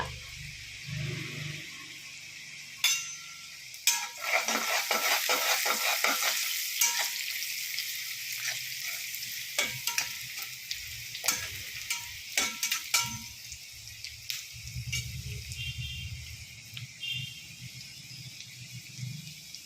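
Curry leaves crackle and sizzle in hot oil for upma, a steady bright frying hiss broken by sharp pops and spatters, strongest early on and fading to a softer sizzle with light stirring.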